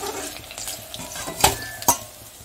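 Vegetarian fish-shaped pieces frying in hot oil, a soft continuous sizzle up close broken by two sharp clinks of a utensil against the pan.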